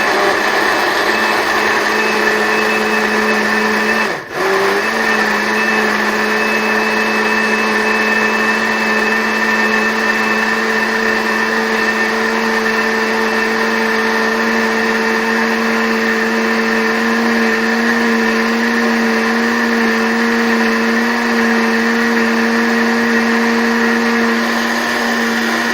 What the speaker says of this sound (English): we're going to proceed to start by pulsing the mixture, and this is basically just clicking the switch on and off.